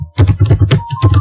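A computer keyboard is typed on in a quick run of close, crisp keystrokes, several clicks in just over a second while a command is entered into a Cisco router interface.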